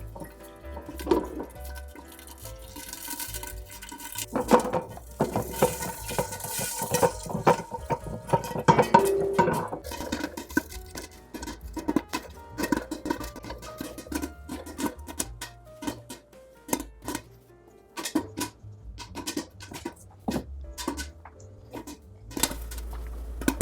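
A pot of kettle corn is shaken on the stove while kernels pop, with scattered sharp pops and metallic rattles of the pot arriving irregularly and densely, loud and close.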